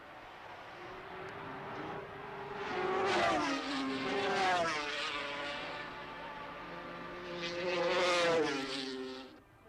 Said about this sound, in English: Phil Reed still cracking round on his Kawasaki